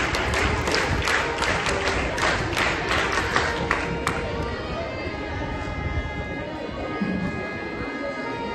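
A school assembly performs a group scout clap at an investiture ceremony, sharp synchronized claps in a quick rhythmic pattern during the first half, then a steadier crowd noise with voices underneath.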